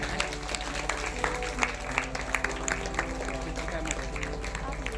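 Congregation in a Ranchi prayer hall clapping together to welcome God, a steady mass of hand claps with a rhythmic pulse, mixed with voices and a low hum throughout.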